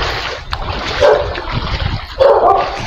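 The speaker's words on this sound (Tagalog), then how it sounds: "Aso." A dog barks in two short bursts, around one and two seconds apart, near the speaker during deep, waist-high flooding, with splashing and trickling floodwater running underneath throughout.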